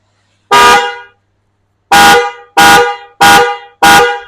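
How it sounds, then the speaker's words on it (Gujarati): Loud aftermarket horn fitted to a new Suzuki Burgman scooter blares in one long blast, then four shorter rhythmic honks in quick succession, close and alone. "જોરદાર હોર્ન ફિટ કરેલા છે."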